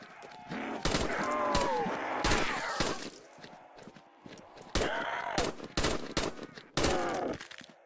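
Powerful gunshots in Call of Duty VR Zombies ring out as separate loud cracks in an uneven rhythm, about a dozen in all, mixed with zombie groans and game effects.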